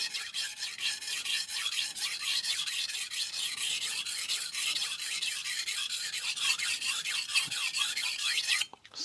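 A dull knife is drawn over a Cheefarcuut 400 grit sintered diamond stone in quick, rhythmic rasping strokes, close and steady, ending with a brief clatter.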